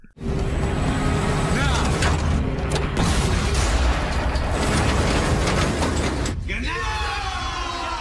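A loud, sustained rumbling explosion in a TV drama fills the scene with crackling debris and mechanical clatter, then trails into quieter scraping sounds.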